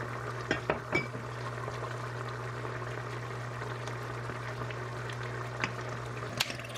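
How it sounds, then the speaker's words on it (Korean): A sauce of anchovy fish sauce, sugar, soy sauce, water and a little salt bubbling steadily in a pot, a soft continuous simmer with a low hum and a few light clinks, no voices. "그리고 멸치 액젓, 설탕, 진간장을 넣고 끓여줍니다"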